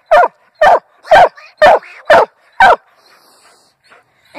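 Hunting dog barking while treeing an animal: six loud, evenly spaced barks close by, followed by a few faint whimpers and yips.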